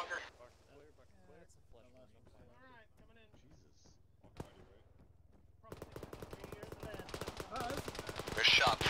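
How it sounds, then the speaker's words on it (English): Rapid automatic gunfire rattles in the military video game Arma, quiet radio-style voices giving way to a loud, sustained burst of repeated shots near a compound. "There's shots southwest beyond the compound."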